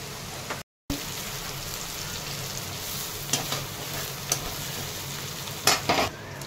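Chopped onion sautés in a pan with a soft, even sizzle and occasional light clinks and scrapes of stirring, close and steady, without speech.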